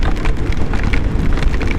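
Rain falls steadily while a motorcycle is ridden on the road, a dense continuous patter and rush of noise with no talking.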